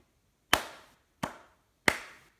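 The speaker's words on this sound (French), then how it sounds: "On peut s'applaudir." Three separate hand claps, sharp and close, evenly spaced with brief decaying tails and near silence between them.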